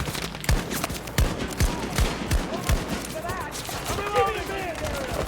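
Pistol shots crack in Battlefield 2042 in a quick run of about five evenly spaced, punchy reports, followed by busier battle sounds while a player talks over it.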